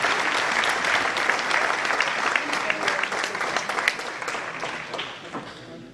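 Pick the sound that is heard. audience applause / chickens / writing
audience applause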